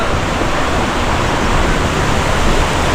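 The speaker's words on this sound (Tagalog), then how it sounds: "narinig ko na, pero yung pinaka falls ay hindi pa tanaw dito." A waterfall in Infanta, Quezon, heard as a steady, full-bodied rush of falling water, continuous and fairly loud, with no voices over it.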